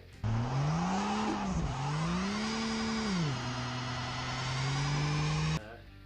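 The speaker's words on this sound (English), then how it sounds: "And then you can accelerate, start doing the burnout." A Ford XR6 Turbo held by a line locker does a burnout: the engine revs up, dips and climbs again, then holds a loud sustained howl for several seconds before cutting off sharply.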